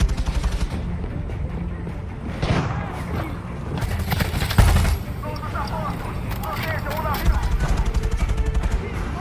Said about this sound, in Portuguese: Pega a metralhadora.